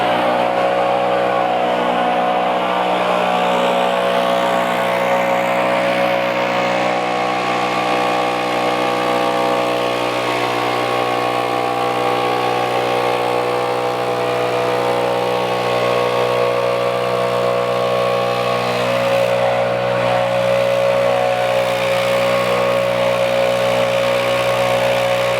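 STIHL BR700 backpack leaf blower engine running steadily at close range, a loud buzzing two-stroke drone with a strong tonal hum that holds even throughout, with no talk over it.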